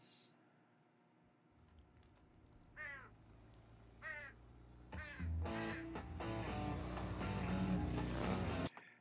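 Crows caw in short, rasping calls in the opening of a TV drama, first alone and sparse against quiet, then overlaid by swelling music and ambient sound that build to a loud, sustained wash before cutting off.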